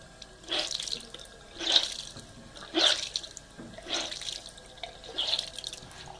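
A makeup sponge is squeezed repeatedly under a running tap in a sink, water gushing and splashing in about five rhythmic surges over steady flowing water, close and moderately quiet, with no talk.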